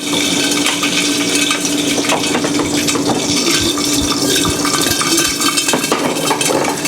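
Dense, rapid popping and crackling of popcorn in a pot, a continuous busy patter of small bursts with sizzling underneath, loud and close.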